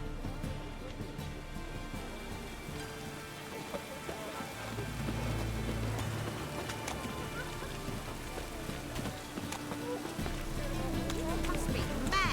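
Steady rain falls in The Witcher 3: Wild Hunt, a soft continuous patter of drops on surfaces running throughout, with a voice speaking over it.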